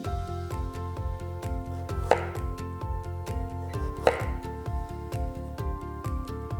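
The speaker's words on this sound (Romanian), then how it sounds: "Pentru asta fixăm morcovul, tăiem o fâșie subțire pentru a avea stabilitate, răsturnăm și tăiem pe lungime." A knife cutting a carrot lengthwise on a board, a close, crisp chop landing twice, about two seconds apart, over a low steady background hum.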